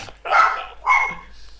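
A dog barks in the video game Dofus, two loud, close yapping barks in quick succession, clear and prominent over a low steady hum.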